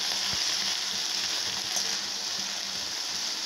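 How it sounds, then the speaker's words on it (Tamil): Banana flower frying in hot oil makes a loud, dense, continuous sizzle close by, with a few faint low knocks from stirring and no voices. "இப்போ இந்த எண்ணெய் காஞ்சிருக்கு, இதுலேயே இந்த வாழைப்பூவை போட்டுக்கணும். வாழைப்பூ நல்லா வதங்கணும்."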